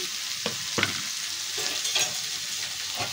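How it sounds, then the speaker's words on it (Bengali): Chopped onion, chili, ginger and garlic stir-fry in hot oil with a steady close sizzle, broken by several sharp scraping strokes of a spatula against the pan. "প্রথমে আমি পেঁয়াজ কুচি, লঙ্কা, আদা আর রসুন"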